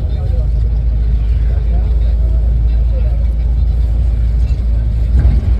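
A vehicle speeds along a road on the Nagpur to Nanded route, heard from inside as a loud, steady low engine and road rumble while passengers talk over it.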